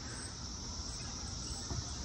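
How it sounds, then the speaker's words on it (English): A dense, steady chorus of cicadas drones without pause in Maryland during a mass emergence, loud and continuous, with no voices. "And cicada right there, no shocker, they're everywhere."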